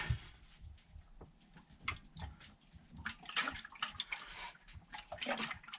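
Water sloshes and splashes faintly inside an RV black tank, irregular wet swishes and drips, fairly quiet with no talking.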